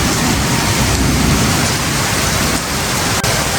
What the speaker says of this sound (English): The daily afternoon rainstorm has begun.